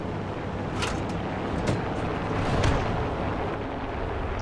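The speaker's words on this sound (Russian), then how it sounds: "На юге от меня стрельба какая-то." Gunfire and explosions crackle through a War Thunder simulator tank battle, a rumbling battlefield with several sharp blasts and booms standing out over continuous low engine drone, no voices.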